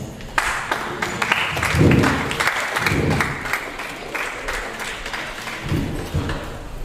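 A crowd at a cybersecurity meetup applauds, dense continuous clapping that swells early, then holds at a steady, fairly loud level, with a few scattered voices mixed in.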